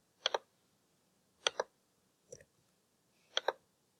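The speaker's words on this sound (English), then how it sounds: "Let me type this in real quick." Four short bursts of clicky key taps come about a second apart, each a quick double or triple click of someone typing values into a computer, with near silence between them.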